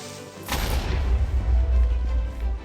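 A Minecraft creeper explodes near trees in a forest: one sudden loud blast followed by a deep, rumbling low boom that lingers for a couple of seconds.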